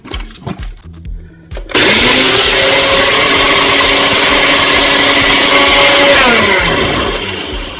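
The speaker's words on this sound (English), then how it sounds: "All we're doing is to put some of the orange peel in the blender" After a few clattering knocks, a blender switches on abruptly and whirs loudly and steadily as it grinds dried orange peel into powder, its pitch dipping slightly near the end.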